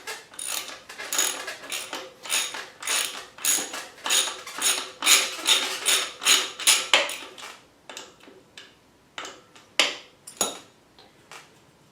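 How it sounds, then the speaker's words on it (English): A ratchet wrench tightens a bolt while a new front brake rotor goes onto a 2021 KLX300 motorcycle, giving runs of quick, close metallic clicks in uneven bursts that slow toward the end. No one speaks. "I still need the ratchet"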